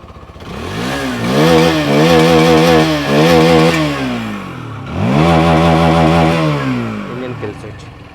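A Hero Xtreme 160R motorcycle engine is revved with the throttle in repeated blips, each rising and falling with a buzzy, rasping exhaust note, loud and close.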